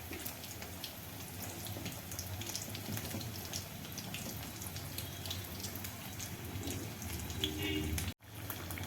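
Water runs steadily from a kitchen tap as hands are washed during home cooking, a continuous splashing hiss near the sink that cuts off abruptly near the end.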